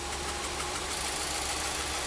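A 2014 Volkswagen Jetta engine idles with a cylinder 4 misfire, giving a steady, close, rough rumble with constant broadband noise and no voices.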